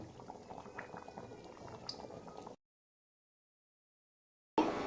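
A pot of masoor dal with potatoes bubbles softly at a low simmer, a faint, steady burbling. It breaks off into silence, then a brief louder burst follows.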